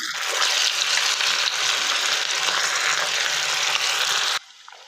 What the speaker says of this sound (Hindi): अब इसको हम फ्राई करेंगे।